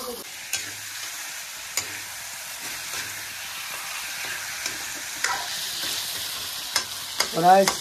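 Meat frying in a pan while being stirred, with a continuous close sizzle, occasional sharp utensil knocks and scrapes, and a louder burst of stirring near the end.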